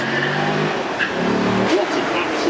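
A 6.2 litre V8 Camaro accelerates at a supercar weekend run, a continuous loud engine roar with some crowd voices and talk mixed in over the short stretch.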